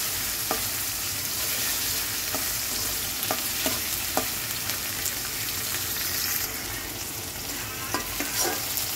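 Onions sizzling in a frying pan for a drumstick-leaf stir-fry, a steady close hiss of hot oil with occasional soft clicks of stirring.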